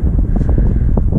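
Gusting wind on an outdoor rabbit hunting walk buffets the microphone in a brief, loud, low rumble.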